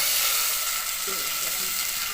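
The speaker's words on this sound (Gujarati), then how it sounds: "આપણે આવી રીતે વઘાર નાખીએ એટલે તેલ ઉડે" Hot oil sizzles and hisses loudly in a pan as tempering is added, with a brief burst of crackling partway through.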